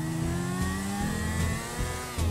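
A car engine in GTA 5 revs hard during a chase after a limo, a loud sustained whining roar with shifting pitch and brief dips as the throttle changes, no speech over it.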